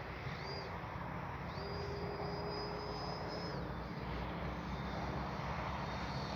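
Freewing F/A-18C 90mm RC electric ducted-fan jet flying slowly overhead with landing flaps down, a steady whining turbine-like hiss with a faint high tone that rises and holds, continuous and moderately distant.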